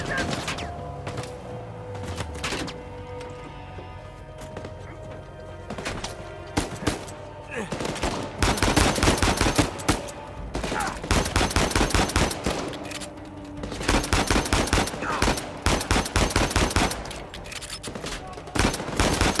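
Gunshots in the Uncharted 4 video game, with scattered single shots early on and then long dense stretches of rapid automatic fire, loud and close, mixed with game music and effects.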